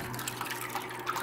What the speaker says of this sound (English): You can almost hear the water level change